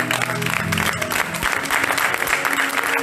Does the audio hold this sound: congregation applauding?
yes